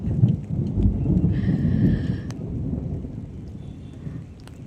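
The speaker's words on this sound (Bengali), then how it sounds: "এই যে শোনো মেঘের গর্জন" Thunder rumbles low and heavy through a downpour of rain, loudest at first and then easing off under the steady wash of the rain.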